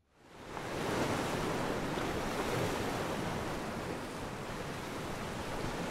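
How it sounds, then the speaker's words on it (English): Strong wind and choppy sea surf wash steadily around a boat anchored on the outer Great Barrier Reef at night, a loud, continuous broadband roar that swells in within the first second and holds without a break. "Very windy and very choppy, so the boat keeps moving."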